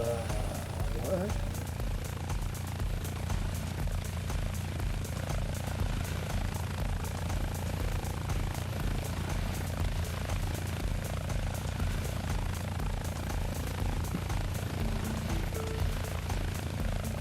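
Aircraft engine droning steadily in a flight simulator game, a constant loud low hum and propeller buzz running throughout without a break.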